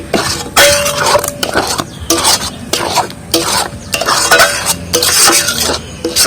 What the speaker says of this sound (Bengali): আম ক্যান্ডি বানানোর জন্য এইভাবে আমি নেড়ে দেবো।